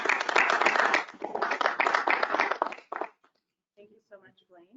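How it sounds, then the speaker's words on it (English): Council members and attendees clap in a public council meeting, a brief, lively round of close hand claps in bursts that thins out and stops, followed by a few quiet words. "I think it deserves a little round of applause"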